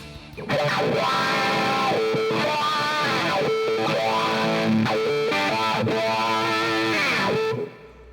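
A heavily distorted electric guitar through an Axe-FX III drive, amp, cab and reverb plays chords and riffs with a thick, saturated tone and a touch of reverb, loud and continuous before stopping abruptly.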